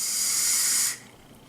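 Air is drawn through the wide-bore airflow of a Vaperz Cloud VCST vape tank, a close, steady breathy hiss lasting just under a second before stopping abruptly.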